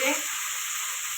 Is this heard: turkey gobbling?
no